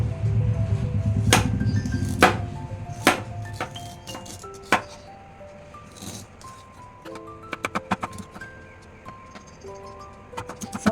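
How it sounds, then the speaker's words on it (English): A knife chops ginger on a board in a home kitchen, sharp irregular knocks spaced out, some ringing clinks of dishes and bowls, close and clear. "So after cutting the ginger pieces, I have added into the same bowl"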